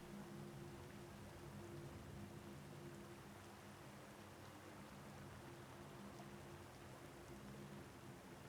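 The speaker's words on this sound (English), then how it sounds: "I like the rain." Steady rain in the game URU: Complete Chronicles, a soft continuous patter of drops falling over tiny islands, even and unbroken throughout with a low ambient hum beneath and no voices.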